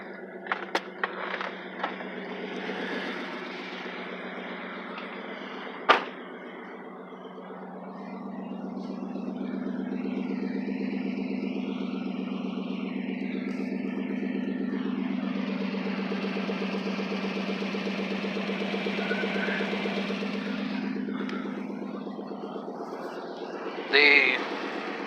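A Lexus car engine runs with its mufflers cut off, giving a steady, loud low rumble that holds throughout, with a brief sharp knock early on and a short burst near the end.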